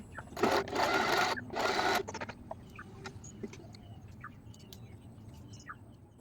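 A sewing machine stitching a folded 12 by 5 centimetre fabric strip for a hair bow runs in two loud, close bursts early on, then quiet room noise with faint small clicks follows.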